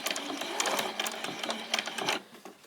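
A small sewing machine runs a back stitch on doll shorts, a quick close buzzing whir with rapid needle clatter that slows near the end.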